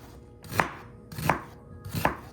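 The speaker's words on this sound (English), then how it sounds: "I'm just cutting up some onion next." A knife chops through a medium-sized sweet onion on a cutting board in a home kitchen: three crisp, evenly spaced chops, close and clear, with nothing else heard.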